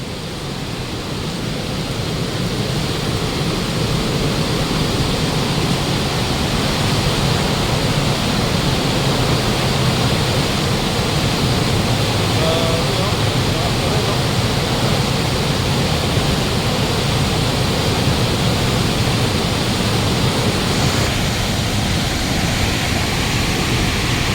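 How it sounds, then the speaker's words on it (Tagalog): Strong water surges through Wawa Dam, a loud, continuous, close rushing roar that holds steady and unbroken throughout, with no voices over it. "nandito na tayo sa bunganga ng Wawa Dam. Ayan, kung napapansin nyo, ah, lakas pa rin ng tubig."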